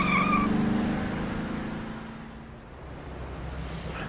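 A car from a BBC radio drama of Moonraker turns around and drives off, its engine note rising and falling steadily and fairly close, with no talk over it.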